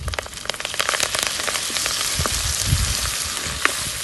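Curry leaves dropped into hot oil in a pan crackle and sizzle loudly, a dense spitting fry with scattered sharp pops close by, continuing steadily throughout.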